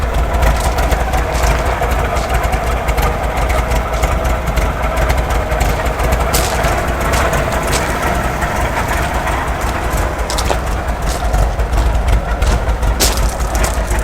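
An MGB classic car engine idles rich, with a steady, loud, close rumble and an uneven splashy burble that lasts about fourteen seconds. Nobody talks.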